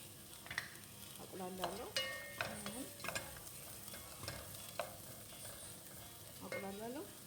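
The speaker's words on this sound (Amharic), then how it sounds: "እዚህ ጋር ሽንኩርት አለኝ፣ ካሮት አለኝ። አቁላላለሁ።" Onions and carrots being sautéed for broccoli soup give off a faint, soft sizzle in the pan. A spoon scrapes and stirs them in repeated light strokes, with quiet clinks and scuffs and no talking.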